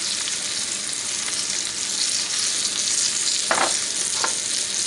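Sliced apples and sugar fry in melted butter, a dense continuous sizzle close to the pan, broken late by two short scraping stirs, with no voices over it.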